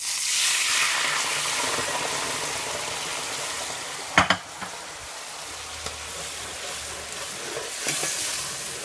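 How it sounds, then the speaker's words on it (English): Water hits a hot pan of browned homemade meatballs and bursts into a loud, broad sizzle that slowly settles into steady hissing, with a few sharp clatters of a utensil scraping the pan midway. "I'm just going to use that water just to deglaze the pan. It's going to sizzle."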